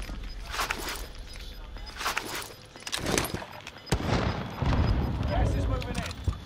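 Gunfire in the Fortnite video game, scattered sharp shots and bursts interspersed with footsteps and other game sounds, moderately loud, with voices talking at times.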